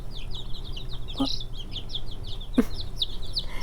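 A black Cochin hen in a mixed backyard flock gives soft clucks and chirpy calls, with a sharper squawk near the middle, amid steady outdoor chatter from other chickens.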